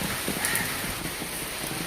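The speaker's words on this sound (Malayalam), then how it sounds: "നല്ല മഴ." Heavy rain pouring down steadily, a dense, continuous hiss of drops drumming on surfaces nearby, with no voices.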